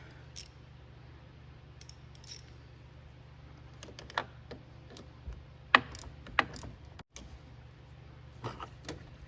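Wrench clicking and scraping as a nut on the neutral terminal of a Chevy truck starter is tightened down, giving scattered short metallic ratchet-like ticks over a steady low hum, fairly close.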